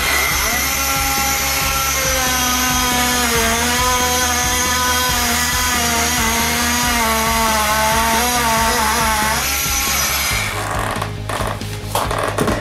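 An oscillating multi tool cuts out a board while tiling a bathroom, a loud, steady buzzing drone that runs almost the whole time and then breaks off near the end into rough, uneven rasping.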